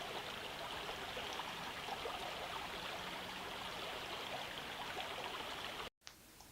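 Hands Creek, crossed by the Mountain Valley Pipeline route, flows in a steady, full rush of water close by, with an even broadband wash that cuts off sharply near the end.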